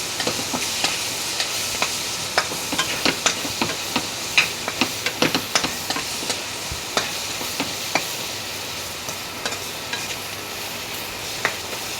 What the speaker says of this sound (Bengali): চিংড়ি মাছগুলিও দিয়ে দিলাম। এগুলি একটু ভেজে নিব।